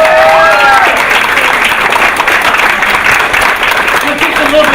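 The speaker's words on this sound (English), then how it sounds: "I think we should give Aaron and Homan a big round of applause" Crowd applause for two people at an evening college talk event, a broad steady wash of clapping lasting throughout, with a voice speaking over it near the start.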